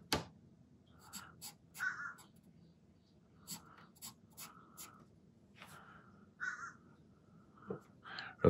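Harsh cawing from a crow outside a window comes in repeated calls, somewhat distant, mixed with the scratch of a pencil sketching a figure indoors.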